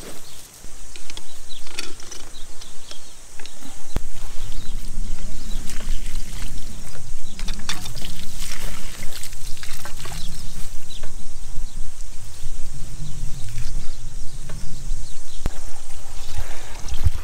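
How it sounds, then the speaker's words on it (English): Water runs into a cattle water trough on a dairy farm as a steady, close trickle and splash, with intermittent mechanical clanks and knocks over it throughout. "got water going in there"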